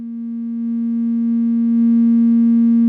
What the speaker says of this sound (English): let's have a listen to the sine wave.